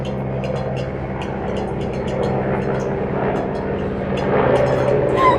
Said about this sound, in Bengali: ওইদিকে মাথার ওপর দিয়ে হেলিকপ্টার যায়।